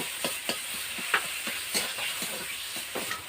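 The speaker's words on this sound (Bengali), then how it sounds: "চিচিঙ্গাটা একদম ঘেঁটে গেছে, দেখুন আমি খুন্তি দিয়ে বেশ ভালো করে একটু ঘেঁটে নিচ্ছি" A metal spatula stirs snake gourd in a pan, giving a steady run of close, rhythmic scrapes over a soft sizzle, with no talking.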